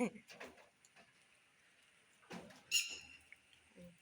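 A bird gives a short, sharp call amid quiet outdoor ambience, with scattered clicks and soft voices around it.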